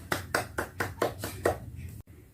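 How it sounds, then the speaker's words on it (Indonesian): Classroom students clapping for a group after its presentation, a short burst of about six distinct claps at a steady rhythm, close and fairly loud, cut off abruptly near the end. "Oke, kita beri aplaus dulu ke kelompok 3."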